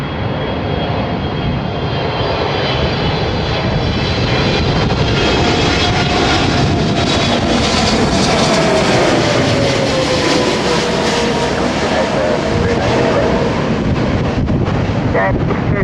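A heavy Boeing 777 jet lands at Chicago O'Hare in a crosswind, its engines a loud, steady, broadband roar sustained throughout, with wind buffeting the microphone and no talk.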